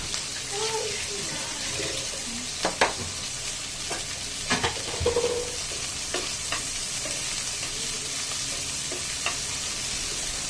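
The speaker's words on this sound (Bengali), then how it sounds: "চিংড়ি মাছগুলো ভেজে নিচ্ছি।" River shrimp fry in a pan with a steady close sizzle, broken by occasional sharp spatula taps and scrapes, while a voice talks lightly over the cooking.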